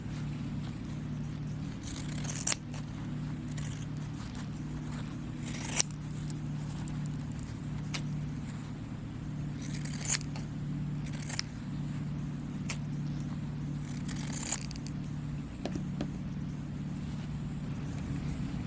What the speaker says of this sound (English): You can use pinking shears if you have them, and that will keep your scrap from fraying.